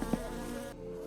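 Steady, close insect buzz from a mosquito in the My Summer Car video game, a continuous whine over a constant hum with a short louder swell early on, no talking.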